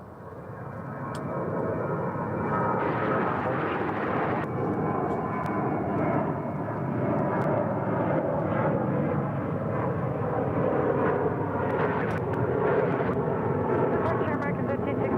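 A UPS heavy jet rolls for takeoff on runway 36 right at Dallas/Fort Worth airport, its engines building to a loud, sustained roar that holds steady throughout, heard from the airfield.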